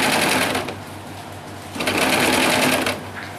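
A sewing machine runs a steady stitch along double-layer net fabric for a small doll dress, loud and close, in two continuous bursts with a brief slowdown between.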